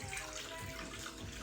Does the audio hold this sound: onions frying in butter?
no